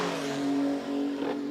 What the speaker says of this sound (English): This will be half distance as the cars cross the line.